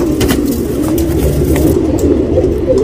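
A male tamra (copper-coloured) pigeon coos nearby in soft, low, repeated throaty calls over a steady background hum.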